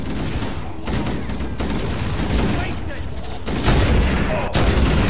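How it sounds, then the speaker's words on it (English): Rapid automatic gunfire from weapons in the Halo video game, a dense continuous spray of shots with louder bursts toward the end, mixed with game effects and a voice talking over it. "Dang, these guns are just like a hose of bullets."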